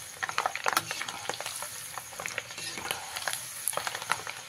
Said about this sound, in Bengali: এবারে তেলের মধ্যে দিয়ে দিচ্ছি চিনেবাদাম।